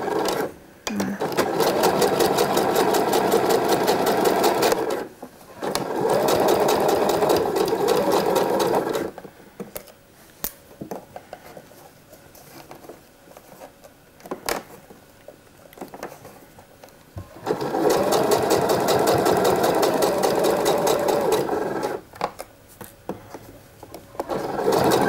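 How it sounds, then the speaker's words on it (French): A sewing machine runs a straight stitch along the lower edge of a swimsuit cup, in bursts of steady motor whir a few seconds long, with quiet pauses between them. "Donc on est au point droit, je vais me placer à 5 mm du bord du tissu, donc du bas du bonnet"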